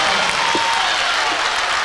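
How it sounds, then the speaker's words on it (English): A volleyball crowd of Falcons fans cheers and applauds loudly and steadily in a gym during a tight fifth set of a Class 2A Region 5 final, with a broadband roar throughout. "now the Falcons crowd is fired up"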